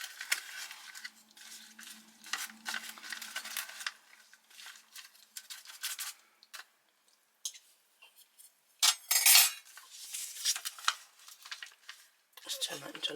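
A spoon stirs chocolatey milk in a pot, making intermittent scraping and clinking against the metal in irregular bursts, with short pauses and a louder clatter near the middle.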